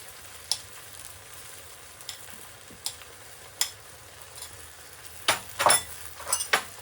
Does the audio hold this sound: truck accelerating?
no